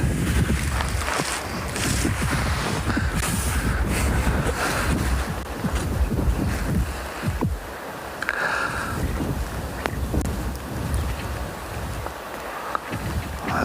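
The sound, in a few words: wind blowing into the microphone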